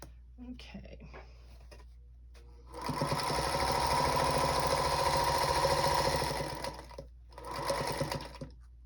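A sewing machine runs steadily for several seconds while stitching a quilt block of charm pack squares, stopping briefly and then starting again in a short burst, close and clear, with quiet talk in the pauses.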